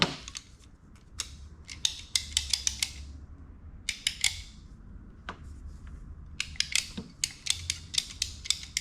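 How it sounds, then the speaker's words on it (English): A one-handed PEX clamp tool crimps a stainless steel band onto PEX B pipe while a mobile home water leak is being fixed, giving sharp close metallic clicks and ratcheting snaps in irregular clusters, alone over faint room noise. "This is a one-handed PEX clamp tool."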